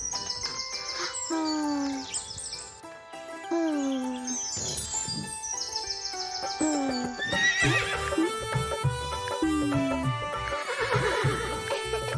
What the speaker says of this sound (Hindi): चल मेरे घोड़े चल टिक टिक